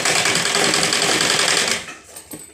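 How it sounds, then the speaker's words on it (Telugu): Sewing machine stitching blouse fabric, a steady, loud, fast mechanical whir of needle strokes running continuously for nearly two seconds before cutting off, then a few faint handling knocks. "స్టిచ్ చేసుకోండి."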